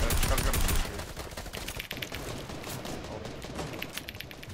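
Rapid gunfire from the video game Fortnite during a custom duo scrim, a dense burst of overlapping shots loudest at the start, then continuing busy game noise.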